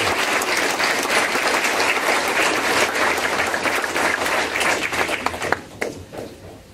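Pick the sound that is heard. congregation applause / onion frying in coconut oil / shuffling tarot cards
congregation applause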